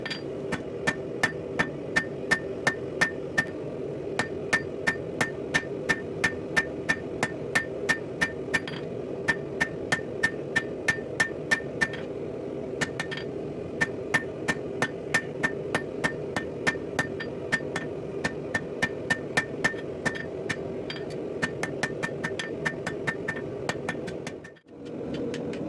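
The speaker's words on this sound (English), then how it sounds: "Now I'm just shaping the hook for the rear hook, just over the horn and on the face of the anvil, kind of tapping it into shape." A steel fire poker hook is shaped over the horn and face of an anvil with a steady series of sharp, ringing hammer taps over a constant low hum, ending in a short pause and no talking.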